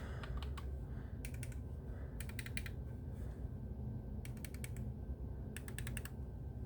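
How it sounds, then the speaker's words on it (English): Mouse-click triggers on a Victrix Pro controller: bursts of rapid clicking in four short clusters, each a quick run of sharp taps, over a steady low background hum. "mouse click triggers"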